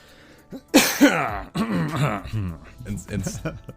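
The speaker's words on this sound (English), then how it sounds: "Instead of your coughing." A sharp cough bursts out, followed by a few rougher coughs mixed with voiced sounds, close and fairly loud.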